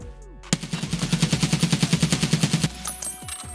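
Full-auto bursts from a SCAR 7.62 rifle in the video game Escape From Tarkov: a rapid, evenly spaced string of about twenty loud shots that stops abruptly, followed by a brief quieter tail.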